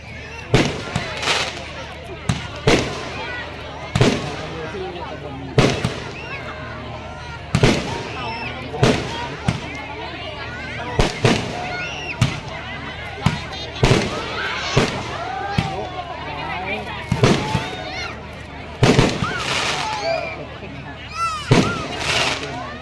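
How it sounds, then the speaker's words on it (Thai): Fireworks go off at the opening ceremony of a local cultural fair, with a long series of loud cracking bursts and pops at irregular intervals over crowd noise and a public-address voice. "จุดพลุครับ"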